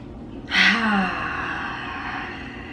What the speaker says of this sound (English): Take a nice inhale.